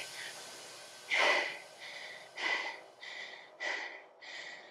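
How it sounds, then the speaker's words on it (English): Heavy, rhythmic breathing during an indoor cycling workout: about six loud, close exhales in quick succession, each a harsh breathy rush with a slight whistling tone, separated by short pauses. "You should be up there. Breathing heavy."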